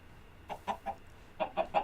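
Chickens in the Minecraft video game, bred on a Sky Factory 3 map: two quick bursts of three short clucks each, close and fairly loud over a quiet background with no talking.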